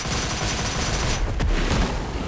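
Skorpion pistol gunfire in a video game battle against a pharaoh boss, a dense, continuous stream of rapid shots lasting the whole moment, loud and close with no talking over it.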